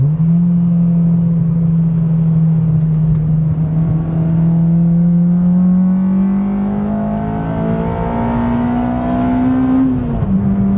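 A mapped Honda Civic Type R EP3 engine pulls hard through the gears from inside the car, its loud steady drone climbing in pitch, then dipping sharply at a shift near the end.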